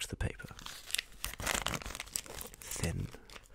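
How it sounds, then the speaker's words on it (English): High-quality, thin, pliable gift wrapping paper is handled close up, crinkling, then torn with a few quick ripping bursts. The sounds are crisp and near, with faint talk mixed in. "Between my fingers, I feel this is a very high quality wrapping paper. Tears with no problem."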